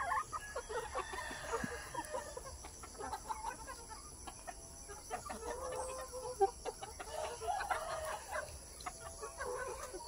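Native chickens cluck and chatter steadily while being fed bananas in a farm range area, with a rooster crowing faintly now and then at moderate distance.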